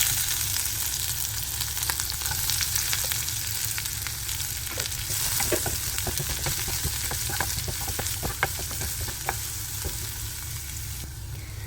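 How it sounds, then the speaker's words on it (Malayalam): Shallots sizzle and fry in coconut oil with popping mustard seeds, a loud steady crackling hiss with scattered sharp pops and stirring throughout, no talking, for a Kerala fish pollichathu. "കടുക് പൊട്ടി തീരുമ്പോഴേക്കും നമുക്കിതിലേക്ക് കുറച്ച് ചുവന്നുള്ളി ചേർത്ത് കൊടുക്കാം."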